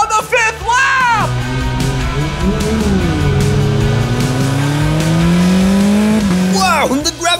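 Race cars roar down a straightaway in a loud, continuous pass, engine tones sweeping and rising with squealing tires at the start and end, heard alone without talk.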